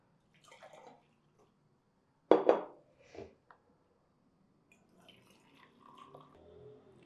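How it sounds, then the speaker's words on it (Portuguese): Hot water that preheated a coffee percolation brewer is poured out, with a brief loud splash followed by a few smaller trickles and drips, then faint clinking and handling sounds; no talking. "Vou descartar essa água, justamente porque eu uso essa água para aquecer a ferramenta."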